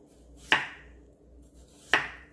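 A knife slices through a potato on a cutting board in a kitchen, giving two crisp, separate chops about a second and a half apart against a quiet background.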